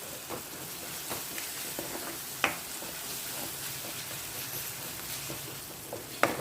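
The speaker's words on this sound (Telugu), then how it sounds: "ఆనియన్స్తో కలిపి వేయించుకుందాం" Onions frying in a pan with ginger garlic paste, a soft, steady sizzle with occasional faint clicks of stirring and a couple of sharper knocks, fairly quiet and without talk.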